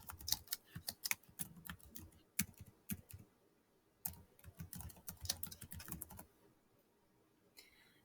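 Typing a folder name on a computer keyboard: irregular bursts of close, crisp key clicks and taps, pausing briefly midway and trailing off into quiet, with no speech.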